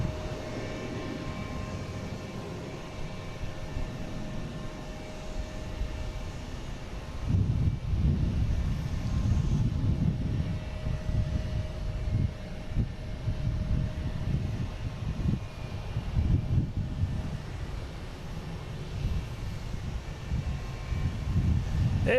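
A Delta Boeing 737-800 bound for Miami runs its engines at Boston Logan, a continuous jet rumble with a steady tonal whine that grows heavier and louder about a third of the way in and stays strong to the end.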